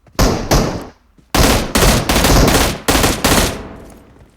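M416 assault rifle fire in PUBG Mobile, loud close automatic bursts: two short bursts, a pause, then a longer sustained string of shots ending with a fading echo.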